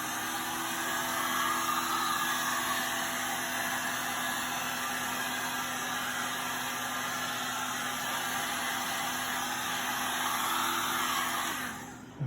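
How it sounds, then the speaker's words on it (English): A heat gun drying paint on kite pieces, heard as a steady, close blowing whoosh with a constant high whine that runs evenly throughout and cuts off abruptly at the end. "Now I'll just dry it with the heat gun."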